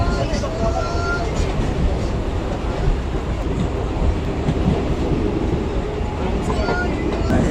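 An Indian passenger train in rural Bengal rumbles along steadily with a dense, continuous roar of wheels and carriage noise, loud and close throughout.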